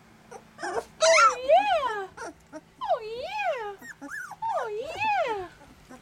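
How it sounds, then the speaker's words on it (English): Newly sighted 18-day-old puppies from a litter of eleven let out rising and falling whines, whimpers and small growls in quick bursts, close and fairly soft, while a person briefly murmurs. "growling, walking, sort of, staggering around, got their eyes open. Ooh, growling."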